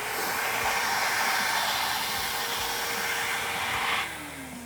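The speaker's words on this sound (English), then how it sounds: "I'm gonna hit the vacuum real quick so you see that." A screen printing vacuum platen runs with a steady, loud airy whoosh and hum that holds for about four seconds, then drops off as the suction is switched down, with no talk.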